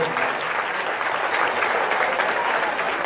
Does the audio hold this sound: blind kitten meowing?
no